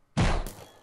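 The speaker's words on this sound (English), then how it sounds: "Sounds like a bow and arrow." A single sharp, hollow thunk, like an arrow loosed from a bow in a Minecraft horror map, followed by a short fading rumble.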